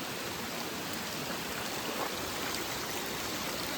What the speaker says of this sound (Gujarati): ખૂબ વરસાદ આવી રહ્યો છે